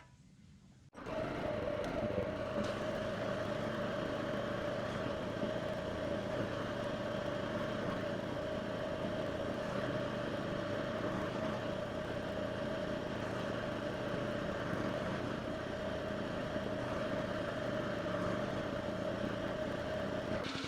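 A Revolution 26 gas-powered reel mower engine starts and runs steadily while mowing uphill, a continuous near droning hum with a constant tone and no voices.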